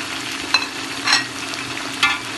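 Tomatoes, plums, green chilies and chicken cubes frying in a pot for masala pulao, a steady sizzle with a few louder stirring scrapes at intervals, close and continuous.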